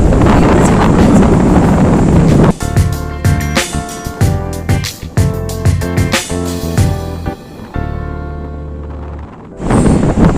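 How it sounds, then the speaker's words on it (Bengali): Strong wind roars at Digha beach in a casuarina grove, loud buffeting gusts battering the microphone close up in irregular bursts that ease briefly near the end. "এত হাওয়া দিচ্ছে বাবা রে"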